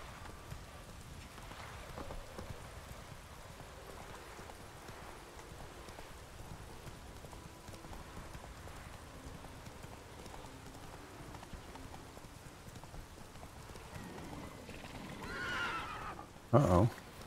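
Horse hooves galloping in The Witcher 3, a steady clip-clop rhythm running throughout with occasional whinnies, rain-like ambience and someone talking over it, ending in a brief loud burst.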